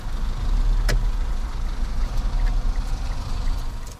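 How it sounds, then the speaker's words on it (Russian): A car rolls into a parking lot, its engine a steady low rumble close by, with a brief sharp knock partway through. "Теперь едем на парковку."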